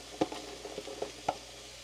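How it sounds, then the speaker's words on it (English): Soft crackling sizzle of vegetables hitting a hot pan, with a few brief clicks and stirring taps over a low steady hiss. "You should hear a little sizzle, which I do."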